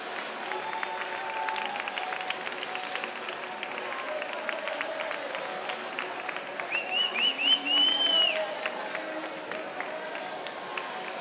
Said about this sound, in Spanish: otro fuerte aplauso para ellas